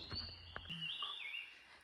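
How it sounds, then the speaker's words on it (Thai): A bird calls in the forest, a thin sustained whistle with wavering pitch, faint and alone in a quiet outdoor setting. "เสียงนกร้อง"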